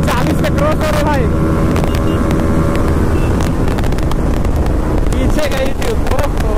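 KTM Duke 200 and Bajaj Pulsar NS 200 motorcycles drag racing at high speed in top gear, a loud sustained engine drone with heavy wind rush over it and someone speaking Hindi throughout.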